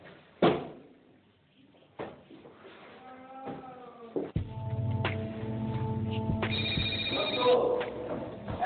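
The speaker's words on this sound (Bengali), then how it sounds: "ওই যে থানা থেকে ফোন।" A telephone rings indoors at night, its electronic ringtone sounding steadily for a couple of seconds after a thud and some shuffling movement, with music and room noise underneath.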